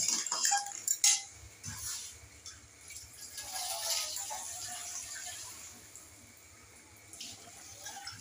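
Crab curry being stirred in a pot, with metal spoon clinks and scrapes against the pot amid soft liquid sloshing, fairly quiet and close.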